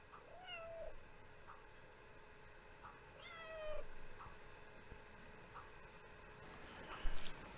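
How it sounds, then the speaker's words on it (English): A feral cat on a homestead meows several times, faint and a bit distant, with drawn-out cries spaced a few seconds apart over a steady background hum. "The day always starts off with feeding our resident feral cat"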